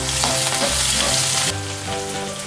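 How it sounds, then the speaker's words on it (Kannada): Two medium-sized onions frying in a pan for donne biryani, a loud, steady sizzle with stirring scrapes, close and continuous with no voices. "ಈರುಳ್ಳಿ ಹಾಕೋತಾ ಇದ್ದೀನಿ. ನಾನಿಲ್ಲಿ ಮೀಡಿಯಮ್ ಸೈಜ್ 2 ಈರುಳ್ಳಿ ತೊಗೊಂಡಿದ್ದೀನಿ. ಇದನ್ನು ಫ್ರೈ ಮಾಡ್ಕೋಬೇಕು."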